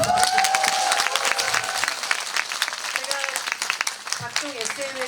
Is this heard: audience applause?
yes